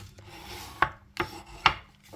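Bone folder burnishing a fold in paper on a card-making desk, a few short scraping rubs in an uneven rhythm, close and crisp against quiet background, no talking.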